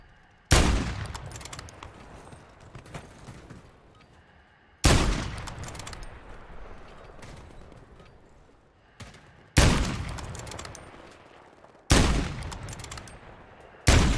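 Gunfire in Call of Duty: Warzone, four loud separate bursts spaced a few seconds apart, each a sharp crack with a long echoing tail fading into quiet.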